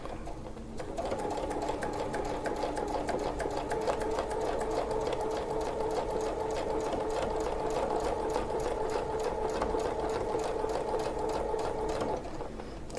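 A sewing machine stitches a quilt around a circle template, running at a steady, even pace for about eleven seconds close up before stopping.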